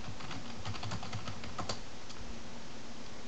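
Someone types rapidly and steadily on a computer keyboard, with quick clicks and an occasional louder key press against a constant low background hum.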